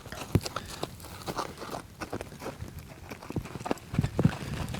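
A horse lopes around a circle during a riding lesson, its hoofbeats coming as soft, uneven thuds on the ground, fairly faint against a quiet background.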